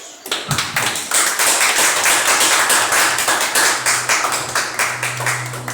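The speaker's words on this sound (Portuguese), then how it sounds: "salve de palmas para Jesus" A church congregation claps for Jesus during a worship service. The clapping is loud, dense and rhythmic and carries on steadily throughout, with a low hum underneath.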